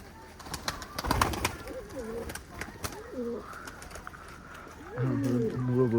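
High-flying pigeons from Khulna cooing in short, repeated warbling calls, fairly close, amid scattered clicks and faint background voices.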